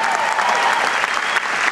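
Dense, steady audience applause for a man being honoured for four straight months of strong results, many hands clapping together at close range and holding an even level throughout with no talk on top.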